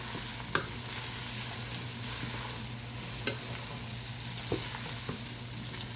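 Seafood pasta ingredients with Himalayan salt sizzling in a pan as they are mixed, a constant close frying hiss broken by several sharp spoon clicks against the pan.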